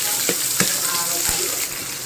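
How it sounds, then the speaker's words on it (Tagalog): Chopped onions sizzle and fry in hot cooking oil in a pan, a close, steady crackle with a few soft stirring knocks. "Lagyan natin ng mantika. Sibuyas natin. Pa-fry na muna natin."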